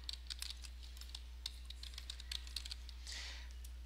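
Quick, light keystrokes on a computer keyboard typing a short document title, a close irregular clatter over a steady low hum, no voices.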